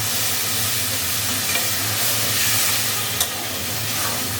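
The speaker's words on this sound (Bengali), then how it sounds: "মশলা কষা হয়ে গেছে, দিয়ে দেবো টমেটো কুচি, বেশি করে টমেটো কুচি, স্বাদ মতো লবণ, আর একটু জল দিয়ে কষিয়ে দেবো।" Cooked-down spice paste with plenty of chopped tomato, salt and a little water sautés in a pan, a loud, steady sizzle and bubbling hiss with a few faint stirring scrapes and one sharp clink.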